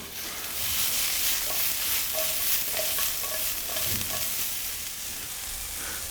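Garlic sizzles steadily in olive oil in a pan with light stirring clinks and scrapes, close up, with no talking.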